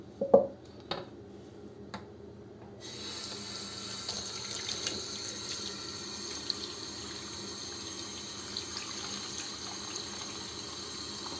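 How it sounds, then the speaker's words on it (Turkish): Tap water runs steadily into a non-stick pan in a kitchen. After a few soft knocks, the flow starts up and keeps a constant hiss and gush until the end, with no talking. "Önce içerisine çok az bir şey su alacağım."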